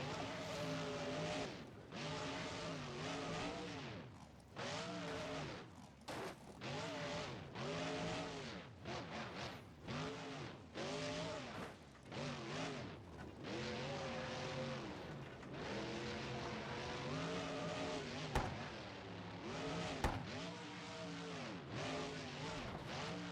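A monster truck engine in BeamNG.drive, a low-revving motor topping out around 7,500 RPM, revs up and down repeatedly in rising and falling sweeps, loud and continuous throughout, with occasional speech over it.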